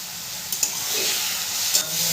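Turmeric being stirred into tomato chutney frying in a pan, a steady sizzle with a few light scrapes of the spoon close by.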